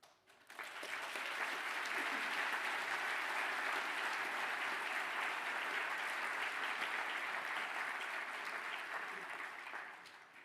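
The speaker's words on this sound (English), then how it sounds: "please stand to receive your applause" Hospitality graduates at a graduation ceremony receive steady applause from the audience, a broad even wash of clapping that swells in quickly, holds for about ten seconds at moderate distance, then fades out.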